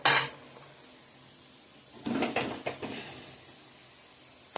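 Fried potatoes are stirred in a pan with a sharp metal scrape at the start, then a quiet pause and a burst of scraping and clattering utensil strokes against the pan at close range.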